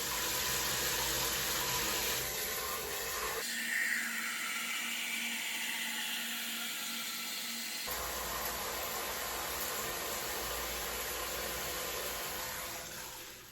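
Water spraying steadily from a small battery-powered pump on a portable camp shower, a continuous hiss that changes tone midway as the flow hits something different, then returns.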